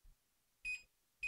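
A kitchen timer being set while chicken enchiladas are made gives short, close, high electronic beeps, two brief chirps about half a second apart with soft button clicks.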